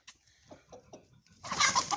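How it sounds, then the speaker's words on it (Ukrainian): A rooster that has found a cabbage head calls his hens with a few soft, quick clucks, followed by a brighter, louder burst of fowl sound close by. "Ось качан капусти знайшов півник і позвав своїх курочок так мило."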